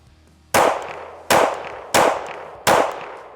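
Four sharp, loud pistol shots from a Shadow Systems CR920P, fired at a steady pace under a second apart, each a hard crack that rings briefly before the next.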